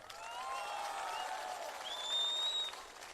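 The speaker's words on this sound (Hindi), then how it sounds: "इतने के लिए तो थोड़ा ताली मार दो" Large crowd at a Tipra Motha mass political rally in Boxanagar applauding faintly and at a distance, a steady wash of clapping with a few whistles and shouts above it.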